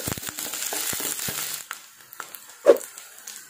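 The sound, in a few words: sautéing onion, curry leaves and chilies in pan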